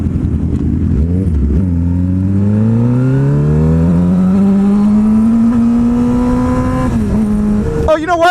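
Motorcycle engine heard while riding, revving and climbing steadily through a long pull with rising pitch, loud and close over road and wind noise, then easing off near the end.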